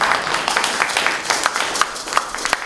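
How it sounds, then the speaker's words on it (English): Audience applause at a reggae day forum in Trenchtown, heard as a steady patter of scattered hand claps from a crowd, moderately loud and sustained throughout. "Give job a hand clap for that."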